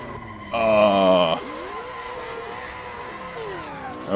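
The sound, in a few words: 1967 Camaro SS driving fast on a runway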